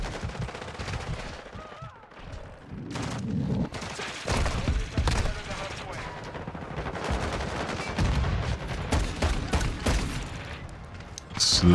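Dense gunfire from Call of Duty: Modern Warfare 2 on Xbox, with rapid automatic bursts and sharp shots packed tightly over loud battle noise, under game voice chatter.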